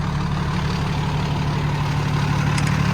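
A heavy PX9 diesel engine in a 2019 Peterbilt 337 mechanics truck idles steadily at close range, a deep continuous rumble with a constant throbbing hum and no voices.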